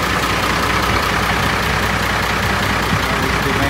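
A Doosan bus engine idles with a steady, dense diesel rumble, heard close and loud and unchanging throughout, with wind noise and no talk.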